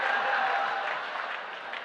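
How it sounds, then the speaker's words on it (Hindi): Audience clapping at a Hindi comedy poetry show, a steady patter of applause from a small crowd that fades slightly toward the end, with no talk over it. "ये 4 आदमी ताली बजा रहे हैं"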